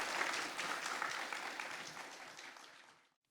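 Moderately quiet applause from a forum audience welcoming an architect speaker to the stage. The clapping is dense at first, then tapers off and fades into silence near the end.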